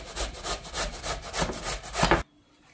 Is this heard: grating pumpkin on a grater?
yes